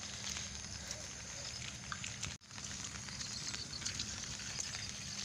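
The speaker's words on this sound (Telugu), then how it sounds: "ఏం వర్షం రా నాయన" Rain falls steadily on a wet, muddy village road, a dense, even patter close by with a brief dip partway through and no talking.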